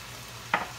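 Pork and beef giniling sizzles steadily in a frying pan, with a single quick scrape of a spoon stirring the meat partway through.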